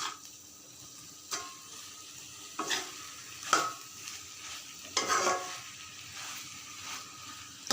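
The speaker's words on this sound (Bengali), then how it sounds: "এবারে আবার একটু নাড়া দিয়ে দেবো ভালো করে।" Food frying in a pan is stirred with a few separate scraping strokes over a soft steady sizzle, recorded close up with no talking.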